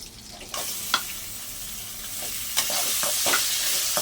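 Grated raw mango fries in a pan. A soft sizzle grows into a loud, hissing fry, with several sharp scraping strokes as it is stirred, up close and with no talking.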